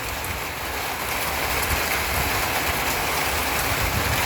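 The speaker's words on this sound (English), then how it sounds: "Currently getting some rain here in Glendale." Steady morning rain falling in Glendale, a dense, even hiss of drops hitting surfaces at moderate volume throughout, with no voices.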